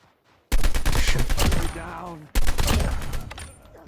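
An ASM10 assault rifle fires in Call of Duty: Mobile, two loud, close bursts of rapid automatic gunfire separated by a short pause, the second burst trailing off toward the end.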